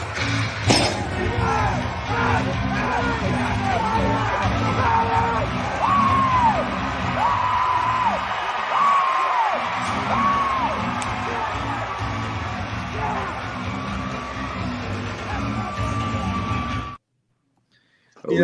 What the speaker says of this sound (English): it wouldn't work for me if it didn't have that screaming going on.